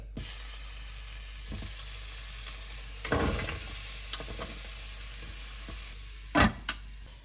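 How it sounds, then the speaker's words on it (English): Carrot, garlic and onion sautéing in a hot slow cooker, giving a continuous hiss with a loud burst of sizzle partway through and a sharp clatter near the end; no voices. "let's load carrot, garlic and onion to saute"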